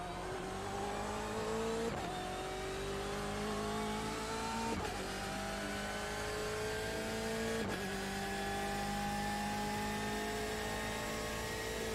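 Race car engine in a Daytona GTE racing game, a loud continuous engine drone rising in pitch through the gears with three sharp upshifts, tyres faintly squealing underneath.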